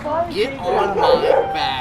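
A dog yips and barks in short bursts at a baseball game in a park, mixed closely with someone talking over it.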